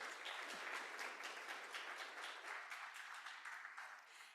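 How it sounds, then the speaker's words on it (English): An audience at a school oratorical competition applauds a judge, the community council president, with steady sustained clapping that fills the room evenly and tapers slightly toward the end. "Please give her a round of applause."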